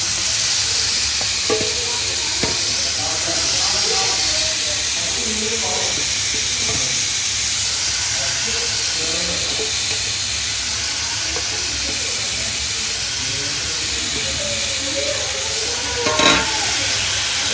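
Coconut oil sizzles and hisses steadily in a hot pan for a long stretch, with occasional stirring clatter and faint voices in the background.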